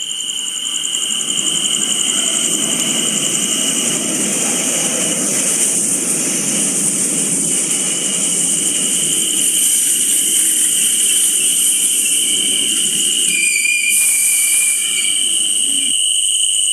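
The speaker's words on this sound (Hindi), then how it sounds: "और जैसे ही ट्रेन आती है, अभय उसमें चढ़ जाता है।" A train pulling into a railway station makes a steady, loud rumbling roar with a high whining tone on top. It stays constant throughout, with a brief shift near the end.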